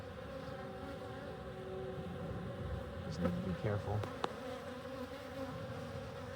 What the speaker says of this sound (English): I would take a little bit of smoke, calm these bees down a little bit.